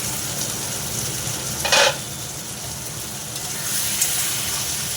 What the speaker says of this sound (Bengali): মশলাটা সুন্দর কষা কষা হয়ে গেছে। টমেটো সব ঘেটে গেছে।